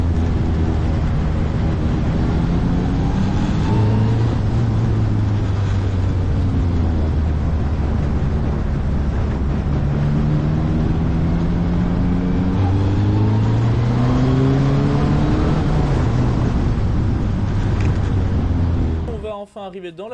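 Formula Renault race car accelerating around a circuit, heard from inside as a loud engine rising and falling in pitch through repeated up-shifts and revs, continuous and close, ending abruptly.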